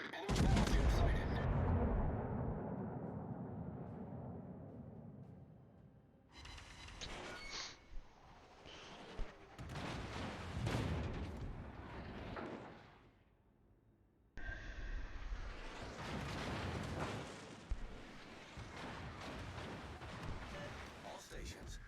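Naval gunfire in World of Warships, heavy ship guns booming in a loud opening salvo that fades, followed by several further bursts of rumbling fire mixed with voices talking.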